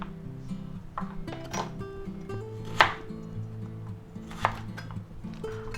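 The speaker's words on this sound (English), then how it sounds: "Now when you have a big one like this, you can cut it in smaller pieces if you want." A knife chops baby carrots into smaller julienne pieces on a board, giving crisp, close, irregular cuts over a steady tonal background.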